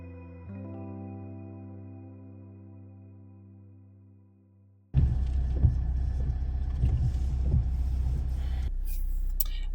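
A car drives along the road toward a forest. A sustained tone fades out, then a steady low engine and road rumble takes over, continuous and close as if heard from inside the vehicle.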